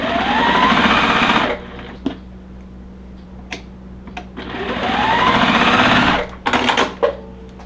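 A sewing machine stitches quilt block pieces in two sustained bursts of rapid, steady running, separated by a quieter pause with a low hum and a few clicks, close and fairly loud.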